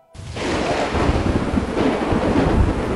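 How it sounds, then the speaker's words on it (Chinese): Thunder rumbles over a downpour of heavy rain in an audiobook storm scene, a dense wash of rain and deep rolling booms starting after a brief silence and holding steady. "金陵暴雨如注，天色如晦，雷声轰鸣"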